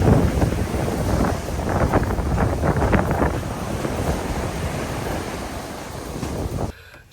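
Surf washes steadily onto a light, golden sandy beach in the Algarve, with wind buffeting the microphone throughout; a continuous, fairly loud roar with no talk, cutting off abruptly near the end.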